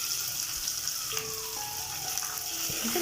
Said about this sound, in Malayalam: ഇത് നല്ലപോലെ വഴറ്റണം